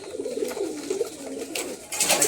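Pet pigeon cooing up close, soft low throaty coos repeating in a loose rhythm, with a brief louder rustle or flutter near the end.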